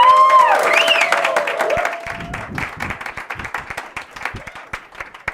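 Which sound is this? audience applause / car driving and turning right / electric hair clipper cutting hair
audience applause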